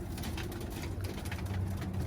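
Birmingham Roller pigeons cooing softly at a loft, low rolling coos repeating under faint outdoor background noise, fairly quiet and unhurried, with no voices.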